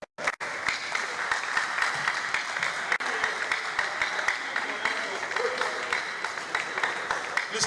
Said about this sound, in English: Please, let's keep clapping,